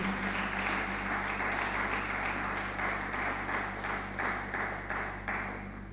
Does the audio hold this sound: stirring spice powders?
no